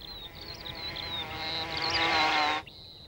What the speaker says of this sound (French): Les polistes sont une famille de guêpes sociales primitives.